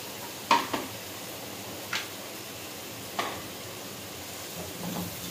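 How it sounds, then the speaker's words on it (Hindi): Potatoes and onions being stirred in a pan give a few distinct scraping clinks of a spoon against the metal, spaced about a second apart, over a faint quiet frying hiss. "आलू भी मैं साथ ही इसे फ्राई कर रही हूँ"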